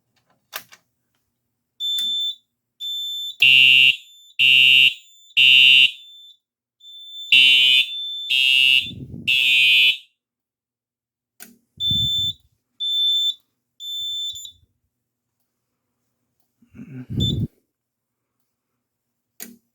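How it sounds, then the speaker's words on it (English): A horn strobe on a Simplex 4010 fire alarm panel under test sounds in loud, evenly spaced pulsing bursts in two groups of three. Fainter clicks and thumps follow between and after the bursts. "I'm going to do one more test, this time with a horn strobe"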